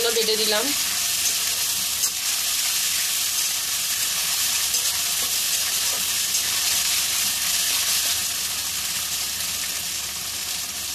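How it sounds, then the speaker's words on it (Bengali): Ground onion and green chili paste for a potol kalia gravy sizzles loudly and steadily in hot oil. The close hiss is continuous, with a short voice at the very start and the sizzle easing slightly near the end. "এবার কাঁচা লঙ্কা আর পেঁয়াজ আমি বেটে রেখেছিলাম এটা দিয়ে দেবো"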